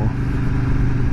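A motorcycle engine rumbles steadily and close while riding along a street in Hamburg, a dense low drone with no pauses over about a second.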